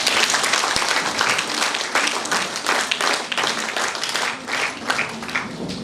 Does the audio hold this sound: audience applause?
yes